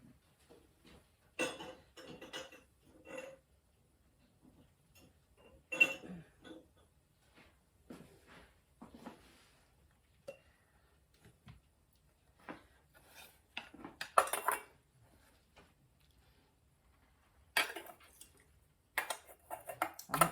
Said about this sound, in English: Into the canner. And we'll get another jar out.